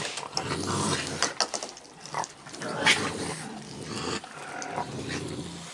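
A dog growls in low, rumbling bursts, close by, with a few higher whimpering sounds mixed in.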